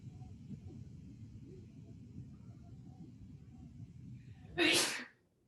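One loud, sharp sneeze breaks through a quiet room with a low rumble, followed by near silence.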